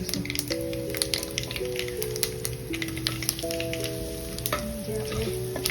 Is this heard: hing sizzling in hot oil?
yes